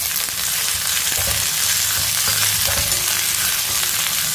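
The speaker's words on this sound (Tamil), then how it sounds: "அதனால கொஞ்சம் நல்லா அடுப்பை வந்து மீடியத்தில் வச்சு நல்லா வதக்கிடுவோம்." Pirandai, the adamant creeper, sautés in oil over a medium flame, giving a steady, close sizzle with soft stirring scrapes throughout and no talk.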